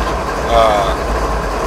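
A train in Train Simulator 2015 runs into San Bernardino Yard beside the interstate, a brief, steady, fairly loud rolling rumble with a faint high squeal rising for a moment partway through.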